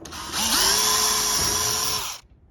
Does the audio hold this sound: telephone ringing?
no